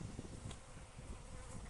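Honey bees buzz around a hive in a steady, close insect drone with no talking.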